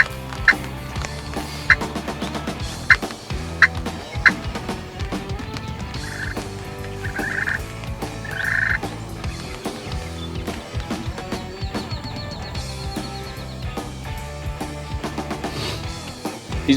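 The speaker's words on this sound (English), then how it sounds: "they gobbled their head off." Wild turkeys gobbling outdoors during a bow hunt along the Altamaha River, repeated gobbles rising over a dense chorus of frogs croaking, with several sharp nearby calls early on.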